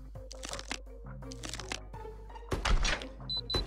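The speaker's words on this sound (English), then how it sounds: "activate this exploding brick and blow up most of these electric bricks" An exploding brick blows up in the Mousecraft puzzle game, a burst of crunchy, cracking game effects following a stretch of small clicks and thunks, with a short tonal chime at the end.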